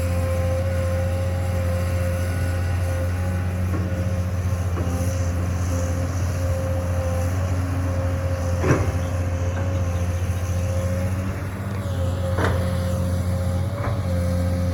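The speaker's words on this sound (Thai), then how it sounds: "เราอยากให้ดูรถขุดกันครับเนาะ ให้ดูการทำงานรถขุดของพวกเรากันไปครับ" A heavy excavator digging a pond drones steadily nearby, with occasional clanks and knocks from the digging arm over the constant low rumble.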